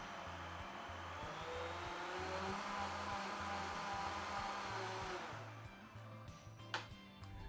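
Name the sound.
Vitamix blender liquidizing mushroom soup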